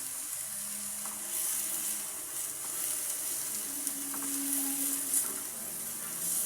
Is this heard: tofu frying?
yes